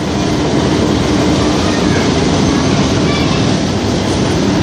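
Railroad cars roll past close by in Holguin, Cuba, making a loud, continuous rumbling roar of steel wheels on track that stays steady throughout.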